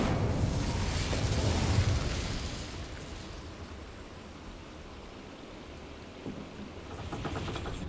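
Incendio fire spell cast in Hogwarts Legacy, a loud roaring whoosh of flame that swells at the start and slowly fades into a low rumbling hiss.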